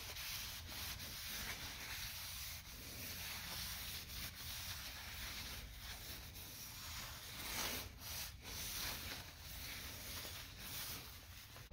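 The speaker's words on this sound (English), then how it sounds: "wipe this down a little bit. Get all this nasty grease off of it." A rag wipes nasty grease off a transmission part, giving a soft, continuous rubbing and scrubbing sound in short strokes. It is close and fairly quiet, with no speech.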